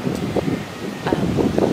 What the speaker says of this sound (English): I guess you don't hear well because it's really windy right now